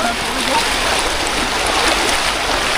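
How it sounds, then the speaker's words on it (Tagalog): Strong river current rushing over rocks, a loud, steady broadband roar that is close and continuous throughout. "Ganda ng agos dito, oh. Lakas ng agos."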